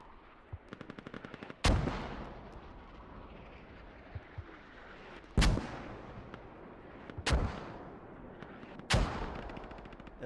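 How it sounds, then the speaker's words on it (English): Mortar fire in a video game battle, four heavy booming blasts spaced a couple of seconds apart over distant crackling gunfire and rumble. "Mortars everywhere."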